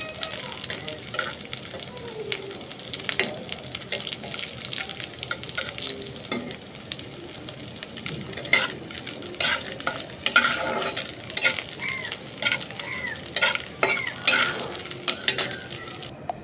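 Dried fish fries in hot oil while being stirred in a pan, a steady close sizzle broken by frequent scraping and clattering strokes of the utensil, with a voice speaking now and then over it.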